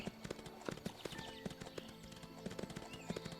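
Hooves clip-clop in an uneven, brisk rhythm as a horse trots in the video game Windstorm, quiet and close amid faint ambient game sounds and light chimes.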